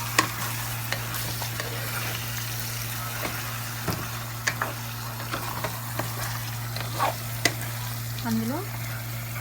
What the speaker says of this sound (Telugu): ఒకసారి కూరని తిప్పి